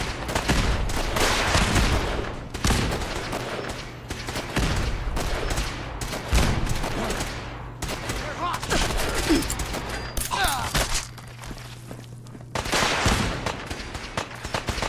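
Turrets in Fallout 4 fire sustained automatic bursts, loud and close, repeating over and over with short gaps, over a low steady hum.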